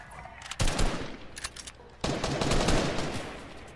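Video game gunfire in a multiplayer match, rapid automatic bursts in two loud volleys, the second longer and denser, with near shots crackling over faint background game noise.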